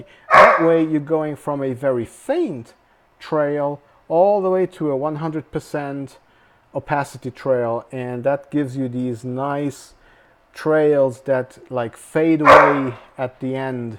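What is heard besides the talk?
dogs barking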